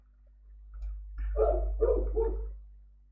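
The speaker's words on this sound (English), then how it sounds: "That dog sounds kind of close." A dog barks nearby in a short burst of three or four quick barks over a low steady hum, with no talking.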